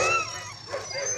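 Sled dogs eager to pull a traditional toboggan in a snowy Lake Louise winter setting bark and whimper excitedly, a continuous chorus of close yips and whines without pause.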